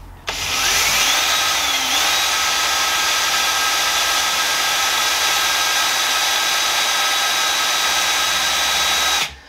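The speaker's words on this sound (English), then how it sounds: "Sometimes just by drilling them and heating them up with the drill, that drill's knackered." An electric drill fitted with an old, worn bit drills out a bicycle wheel spoke, a loud continuous high whine that starts abruptly, holds steady for about eight seconds with a slight pitch wobble, then cuts off.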